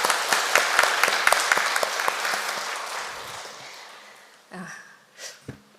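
An audience claps in a Won Buddhist temple service, a quick flurry of distinct claps that tapers off within a few seconds, followed by a few faint breaths and small noises in a quiet hall.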